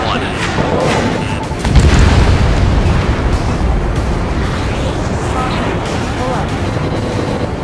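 Loud booming explosions rumble through harbor facilities in the video game Ace Combat 7, a heavy blast followed by sustained roaring debris and crackle, with voices talking over the noise.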